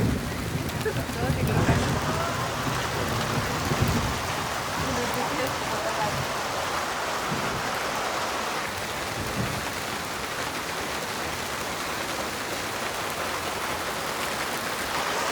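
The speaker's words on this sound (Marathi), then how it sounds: "खूपच पाऊस पडत आहे" Heavy April rain pours steadily in a dense, continuous hiss, with a voice briefly audible near the start.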